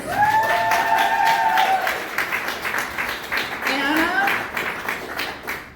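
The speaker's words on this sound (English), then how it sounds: "I want to give a big round of applause for all of these guys." Theatre audience clapping and cheering after a show, with whoops and raised voices over steady applause that swells, dips midway, then rises again.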